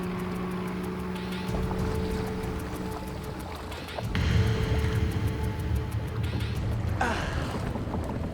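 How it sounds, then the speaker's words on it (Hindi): A motorboat engine drones steadily at a distance, with a low rumble that thickens and grows louder midway as the boat seems to draw nearer, over faint wind and water noise. "ये कोई मोटर बोट की आवाज है"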